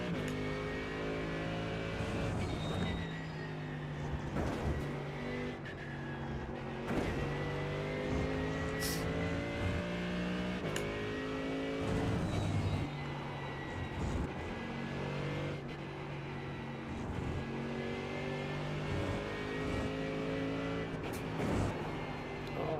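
Race car engines in a GT3 racing video game whine and rev steadily, rising and falling through gear changes as several cars run close together in a pack, loud and continuous.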